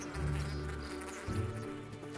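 Bees buzz steadily up close, a droning hum that rises and shifts in pitch for a couple of seconds, with no voices.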